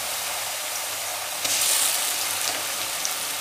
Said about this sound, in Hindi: अभी प्याज हमारी हल्की गोल्डन हो चुकी है, इसको 1-2 मिनट के लिए और फ्राई करेंगे।